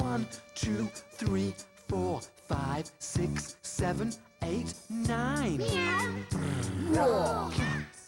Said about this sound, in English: 9 cats.